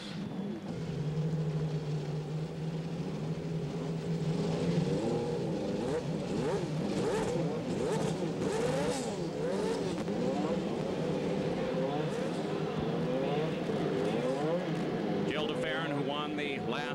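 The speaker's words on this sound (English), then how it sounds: "As the command rings out and the engines fire in 27 Indy cars." Many Indy car engines fire up at the 1996 CART Grand Prix of Miami, rumbling and revving together in a steady, loud drone, with rising whines and a voice speaking over them.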